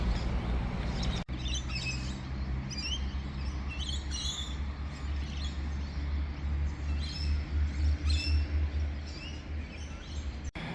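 Birds chirp and tweet in short scattered calls around a lake that serves as a small bird sanctuary, heard over a steady low wind-like rumble outdoors, moderately distant, with no talking.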